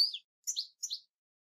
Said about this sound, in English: this bird, the blue tit, has been broken up into paired events